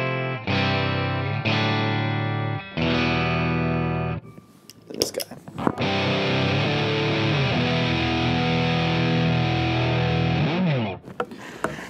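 Clean electric guitar chords, played through a 4x12 cabinet with the fuzz pedal bypassed, ring out and sustain, then a long strummed passage with a bright, full tone and a touch of room reverb, no talking.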